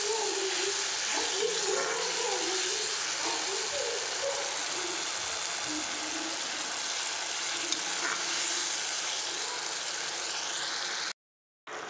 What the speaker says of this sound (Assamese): এইখিনি এতিয়া ধুনীয়াকৈ ভাজি ল'ম আৰু অলপমান